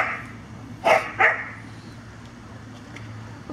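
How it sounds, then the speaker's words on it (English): Dogs bark outdoors near a fountain: two short, moderately loud barks close together, then quieter yips and faint distant barking over steady background noise. "they're woofing over there by the fountain"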